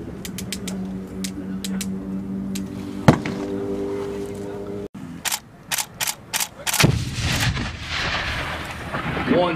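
Sharp bursts from US Marines training with grenades and gunfire: a heavy blast near the start and another midway, then a rapid series of sharp close reports, over outdoor rumble.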